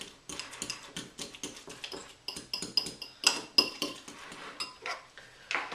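Banana-like batter mashed in a bowl with a utensil for quinoa pancakes: close, repeated clinks and scraping taps of metal against the bowl in an uneven rhythm, with no talk.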